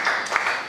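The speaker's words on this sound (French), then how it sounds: "Acclamons encore pour la parole." Brief burst of congregational applause during a French-language Easter church service, a dense wash of many hands clapping at moderate volume for under a second.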